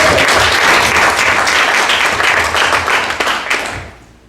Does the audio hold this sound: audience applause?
yes